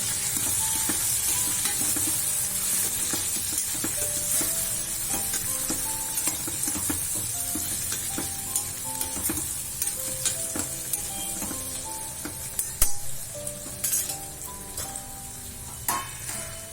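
Stuffed okra fries in a pan with coriander-cumin powder and salt, a constant crackling sizzle broken by sharp clicks and scrapes of stirring, with soft tonal background music.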